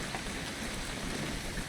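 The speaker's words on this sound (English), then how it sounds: "It's gonna rain the whole weekend" Steady rain falls in the video game What Remains of Edith Finch, a dense, even hiss of drops with no breaks, fairly soft and continuous throughout.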